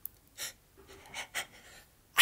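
A sequence of sharp breathy intakes building up, ending in a loud, close sneeze burst at the very end.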